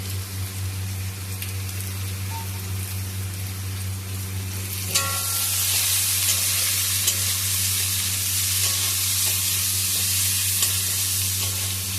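Potatoes fry in oil with a low, steady sizzle until chopped garlic goes in, and the pan bursts into a much louder, brighter hiss that keeps up under occasional stirring scrapes.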